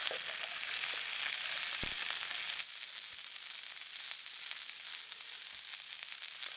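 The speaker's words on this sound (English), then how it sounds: "I'll chuck the onion on now" Onion frying in a pan at a riverside camp, a loud dense sizzle that drops to a softer, steady crackle after a couple of seconds, with a faint knock or two.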